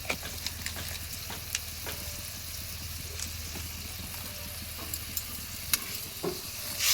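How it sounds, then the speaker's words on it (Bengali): A bean and potato curry is stirred in a pan after water is added, with soft scraping strokes and a low steady simmer or sizzle underneath. A few sharp clicks from the utensil stand out, and no one speaks. "এবার দিয়ে দিলাম জল ভালো করে নেড়ে নিয়ে"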